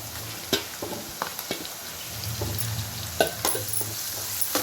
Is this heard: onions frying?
yes